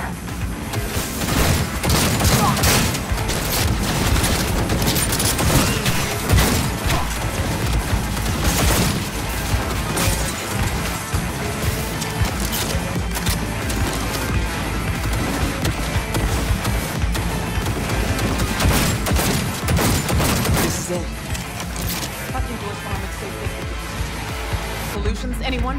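Heavy gunfire in the video game Cyberpunk 2077, dense bursts and booms running continuously and loudly throughout, with a slight drop near the end.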